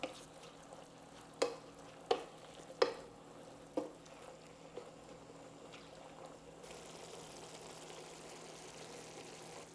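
Korean beef simmering in a soy sauce mixture is stirred in a pan, four distinct utensil knocks spaced about a second apart over a quiet, low bubbling sizzle that continues alone afterward.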